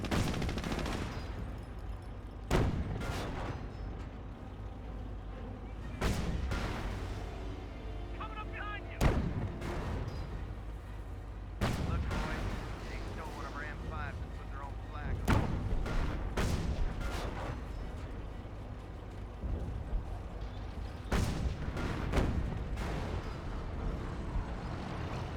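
Repeated heavy booms and bursts of gunfire from the Company of Heroes strategy game, with artillery blasts landing every few seconds over a steady rumble of battle and a voice faintly beneath.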